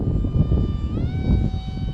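An FT Arrow RC airplane with a SunnySky 2207 2100kv motor flies at low throttle, its motor whine shifting pitch midway over steady wind rumble, without talking.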